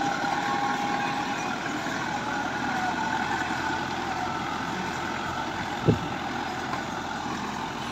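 A New Holland Fiat 640 85 HP tractor engine runs steadily with a coarse, continuous rumble, moderately loud and unbroken, with one brief knock near the end.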